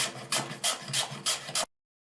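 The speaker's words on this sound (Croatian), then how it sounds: "Zatim ga narežite na tanke ploške." A peeled potato is drawn across a slicer into thin, even slices, giving five or six close, raspy scraping strokes in a steady rhythm. The strokes are heard alone, then stop.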